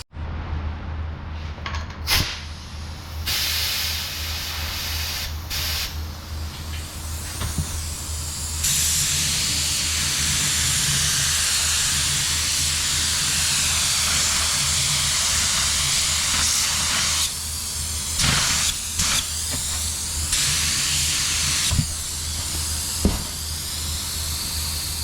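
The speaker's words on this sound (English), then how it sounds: "Give that 10 minutes and give her another coat of base coat." A spray gun lays base coat paint onto a repaired car rocker panel in long, steady hissing bursts, with short pauses and clicks between passes, close and fairly loud.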